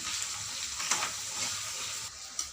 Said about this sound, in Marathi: हे बघा तेलामध्ये चांगले फ्राय केले आहे आपण कांदे टमाटे